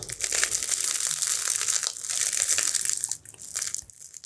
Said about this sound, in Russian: Вот такая горбушечка. Хрустит.